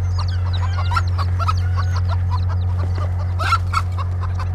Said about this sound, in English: there's a mama chicken with some baby chicks.